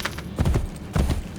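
Horse hooves clip-clop in two short bursts while riding in the video game Assassin's Creed Brotherhood, a close, steady trot with a brief pause between the groups of steps.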